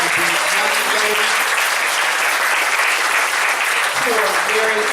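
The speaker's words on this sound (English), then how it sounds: "Let's give her a round of applause for that." Sustained audience applause fills the room, a loud, dense clapping that holds steady throughout, while a voice speaks faintly over it near the start and again toward the end.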